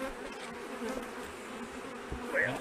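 Honey bees buzz faintly around their hive in fall, a soft continuous hum with a few individual bees flying close by toward the end.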